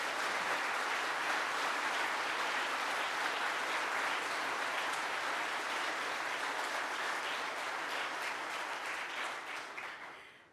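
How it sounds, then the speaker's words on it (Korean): Sustained, dense applause from guests at the Samsung Ho-Am Prize award ceremony honoring the prize winners, steady and even for about ten seconds before tapering off at the end. "수상자들께 다시 한번 내빈 여러분의 뜨거운 축하의 박수 부탁드리겠습니다"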